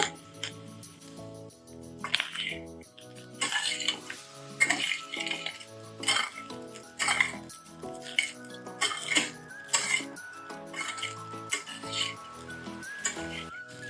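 A spoon scrapes and clinks repeatedly against a pan while stirring a sabudana mixture over a medium flame, a steady run of metallic taps and scrapes close by with no talking.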